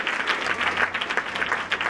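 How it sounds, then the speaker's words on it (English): A church congregation claps their hands together at a worship service, a lively, fairly close burst of many hands with a loose rhythmic pulse, continuing evenly throughout. "Come on, clap your hands and take a clap."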